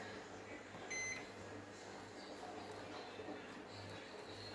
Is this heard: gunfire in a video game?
no